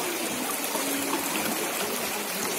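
Water flowing at the source of the River Nile in Jinja, a continuous broad rushing wash, steady and fairly close, with no talk over it.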